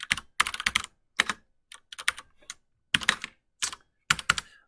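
Bursts of clicky keystrokes on a computer keyboard, typed in quick clusters separated by short pauses, close and clear with no talking.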